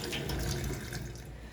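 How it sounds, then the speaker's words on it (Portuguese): A tap runs as water flows over hands at a sink during handwashing, a steady close splashing stream with no talk. "Abra a torneira e molhe as mãos"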